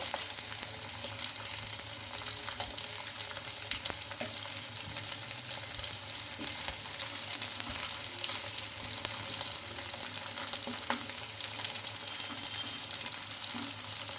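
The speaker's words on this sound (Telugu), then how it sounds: "ఇలా బాగా కొంచెం గోల్డెన్ కలర్ అయితే ఫ్రై చేసుకోవాలి ఇంకా అటు ఇటు తిప్పుకుంటూ మనం" Steamed ration rice fries in oil in a pan, giving a continuous, even sizzle and crackle with faint stirring scrapes, close by and steady throughout, with no talking.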